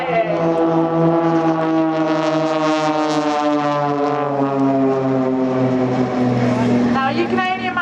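Blades display team aircraft make crazy flying passes down the display line at the Shoreham Airshow, giving a loud, continuous droning engine roar whose pitch sweeps slowly downward as the planes pass close by.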